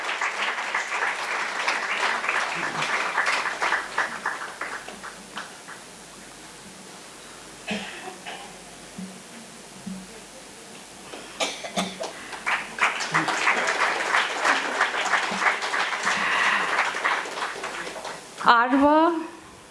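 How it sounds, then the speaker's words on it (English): Audience at the inauguration of an international suicide-prevention conference applauding in two long swells of dense clapping, with a brief lull between and a voice speaking near the end. "A big round of applause for Aditi."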